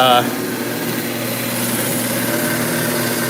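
A rock saw cuts through agate and jasper with a steady, continuous grinding drone that runs unbroken from start to finish at close range.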